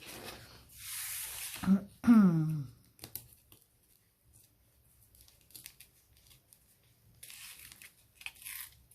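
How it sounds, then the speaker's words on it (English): Corrugated cardboard being peeled and stripped back by hand, a few sharp tearing rips early on followed by quieter scattered scraping and crinkling, with a brief voice heard. "There she goes again with the peeling."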